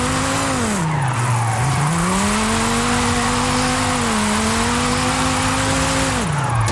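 A tuned drift car in Forza Horizon 5 holds a loud, continuous engine drone that dips and climbs with throttle changes, with tire squeal blended into a dense roar throughout.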